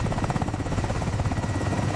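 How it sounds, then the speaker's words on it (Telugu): American military helicopters flying low, about 100 feet up, over Venezuelan territory: a loud, continuous rotor thump and engine drone, close and sustained with no voices. "అమెరికన్ హెలికాప్టర్స్ రాడార్లో కనిపించకుండా ఉండడానికి కేవలం 100 అడుగుల ఎత్తులో ఎగురుతూ వెనిజులా భూభాగంలోకి ప్రవేశించాయి."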